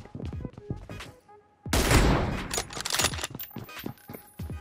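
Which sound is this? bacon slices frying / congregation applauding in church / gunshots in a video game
gunshots in a video game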